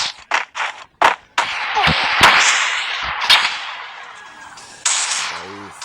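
Gunfire in a shooting video game, several sharp close shots in quick succession, then a louder burst and a lingering ringing tail, with no talk.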